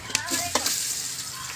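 Onions sizzle and crackle in hot oil for nombu kanji, with a couple of scraping stirs close by.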